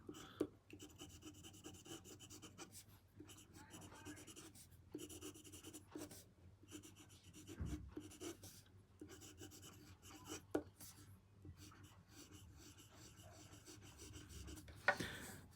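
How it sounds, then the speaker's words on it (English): A broad steel fountain pen nib writing on paper, soft scratchy strokes broken by brief pauses and occasional taps, close and quiet with no voices. "I'll do the writing sample, then I'll talk about the actual nib in a minute."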